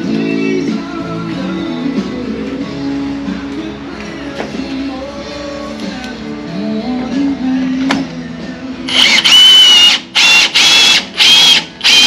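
A cordless drill winds caravan stabilizer legs, whirring in several short bursts near the end, each a loud high buzz separated by brief pauses, after a stretch of low mechanical hum.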